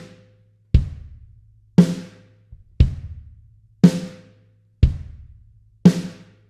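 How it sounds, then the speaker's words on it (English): Drum kit playing a basic rock beat, kick drum on beats one and three alternating with snare on two and four, seven evenly spaced loud hits in a steady rhythm with no talking. "So the beat that we're going to be playing is just a beat of kick drum on beats 1 and 3, and then snare drum on beats 2 and 4."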